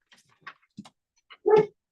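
A dog gives a few faint scratches and soft whimpers indoors, then lets out a louder whining yelp at the end, all close by with quiet gaps between the sounds.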